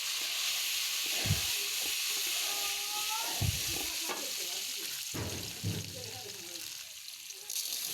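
Chickpeas frying in hot oil in a home kitchen, a steady dense sizzle with occasional stirring scrapes and clatter throughout.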